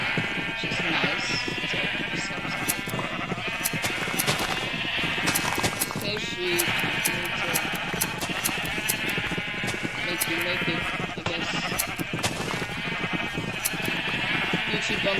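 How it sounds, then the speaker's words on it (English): Minecraft sheep, including a pink one, bleat repeatedly in a busy, overlapping stream while a person talks over them. "I got my sheep down here, which I actually got a pink sheep"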